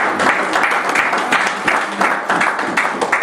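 A church congregation applauding in praise, a dense burst of many hands clapping in a steady, pulsing rhythm, loud and close, filling the room with no speech over it.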